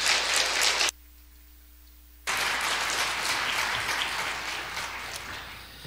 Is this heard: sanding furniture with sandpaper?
no